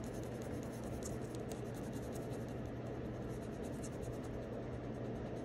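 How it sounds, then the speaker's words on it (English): An eraser rubbing pencil guidelines off paper, a dense continuous scrubbing with quick back-and-forth strokes, close and steady. "I'm gonna erase all these guidelines."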